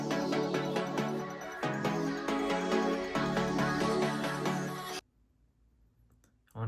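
Layered synth lead melody made with Serum 2, with the lows cut, playing a bright, busy phrase for about five seconds before dropping to near silence, then briefly returning.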